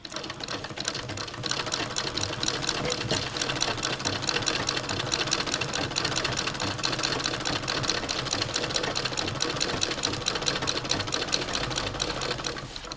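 An antique 1891 White VS II sewing machine stitches through denim with a fast, steady mechanical clatter that runs close and even throughout, with no voices.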